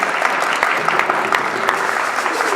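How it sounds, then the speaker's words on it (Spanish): Close, full applause from an audience at a university jazz ensemble concert, dense and steady with sharp individual claps standing out across the whole stretch. "Un aplauso para ustedes."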